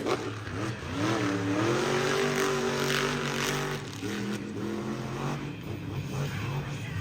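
Monster truck engine revving hard at an off-road beach event, a loud sustained roar with rising and falling pitch that surges, eases and climbs again, with crowd and event noise underneath.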